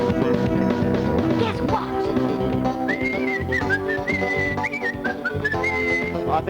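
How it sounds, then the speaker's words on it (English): A whistling frog calling, high thin whistled notes repeating in short sustained tones over a busy background with music-like layers, moderately loud and close. "It's, of course, a whistling frog."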